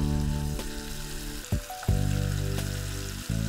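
Mussels fry in a hot pan for a mussel roast, making a loud close sizzle with sharp bursts and a brief dip in the middle, and no voices.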